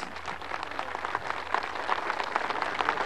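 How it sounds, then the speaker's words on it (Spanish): Outdoor crowd at a Bolivian community housing handover ceremony in Cochabamba applauding steadily, a dense, even wash of many hands clapping heard from a moderate distance, continuous for a few seconds without speech. "¡Fuertes los aplausos!"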